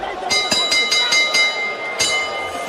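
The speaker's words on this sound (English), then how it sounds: "And he'll be saved by the bell." Boxing ring bell ending a round at a super featherweight bout, struck in a rapid run of bright metallic dings, then one more clang a moment later, heard over a busy arena crowd murmur.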